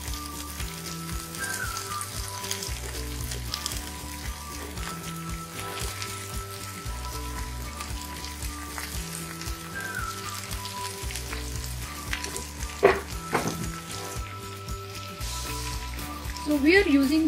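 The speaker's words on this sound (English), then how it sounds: "add the broccoli and snap peas." Broccoli and snap peas frying in a pan with roasted ginger and garlic for Chinese takeout-style tofu, a steady close sizzle with occasional stirring clinks, under background music and a speaking voice.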